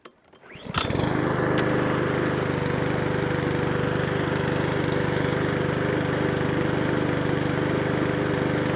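A Mountfield HP41 lawnmower engine with an automatic choke catches after a quick pull and then runs on at a steady, loud, close buzz with no pause.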